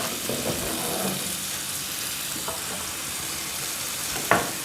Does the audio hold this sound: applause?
no